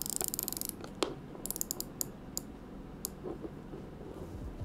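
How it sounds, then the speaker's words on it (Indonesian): The unidirectional rotating bezel of a Spinnaker Boettger dive watch clicks close up, a rapid run of crisp ratcheting ticks at first, then sparser single clicks. "Untuk rotating bezel-nya seperti biasa, karena ini jam diving, dia cuman searah ya, atau unidirectional bezel, rotating bezel."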